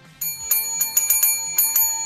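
A bright notification bell chimes several times in quick succession, clear, close and ringing with no voices over it.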